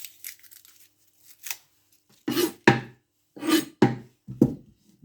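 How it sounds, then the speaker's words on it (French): A knife chopping half an onion on a board, a handful of crisp, separate cuts and slicing scrapes with short silent gaps, close and clear with no talk. "Je vais faire la moitié d'un oignon."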